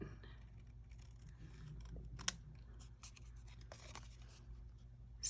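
Scissors cutting card stock along a stamped line for a St Patrick's Day card: quiet, close snips and paper rustle in a series, faint against room hum.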